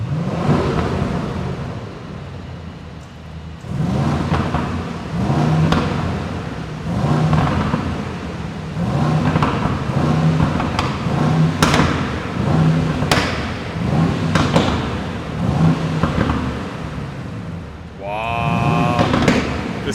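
A Mercedes-AMG GLE63 S Coupe V8 with modified exhaust rumbles loudly, its deep engine note pulsing in repeated rhythmic bursts of revving, ending with a brief higher-pitched sound.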